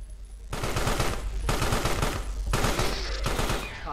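Rapid automatic gunfire from the video game Carrion, loud and continuous bursts across the whole span, briefly quieter at the very start before the shooting kicks in.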